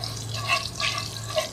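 Cumin seeds fry in two spoons of hot oil, giving a close, continuous crackling sizzle over a low hum.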